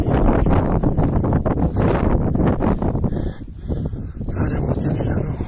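Strong gusting wind buffets the microphone on a Bucegi mountain plateau near Furnica and Crucea Eroilor, loud and roaring in uneven surges with rumbling low-end blasts and brief lulls.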